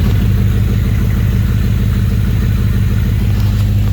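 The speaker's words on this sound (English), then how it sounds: "it seems to be idling great, and it's plugged in and it revs" A BMW E34 540i V8 in a six-speed Touring project car idles smoothly and steadily, a close, constant low engine hum with no talk.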